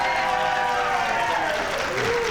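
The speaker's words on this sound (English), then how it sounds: "It is the entire cast of Late Night Saturday who deserves a big round of applause. Let's hear it for them." Studio audience applause on a late-night comedy show, a loud, continuous wash of clapping and crowd noise with voices faintly blended in.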